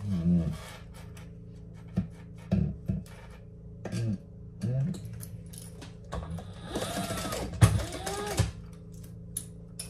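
Close by, a sewing machine stitches in short starts and stops with whirring runs and mechanical clicks, ending in a longer, louder stretch of rapid stitching.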